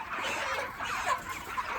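Freshly bought chickens clucking continuously at close range, a busy, slightly muffled flock sound with no talk over it.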